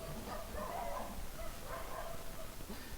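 Distant dogs bark in short bursts, faint and repeated, over a constant low background noise.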